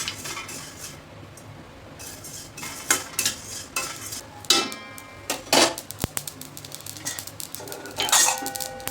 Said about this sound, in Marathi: आपली मोहरी राहिली अगोदर भाजायची, तर यामध्येच टाकायचं म्हणजे भाजून निघेल ते आता.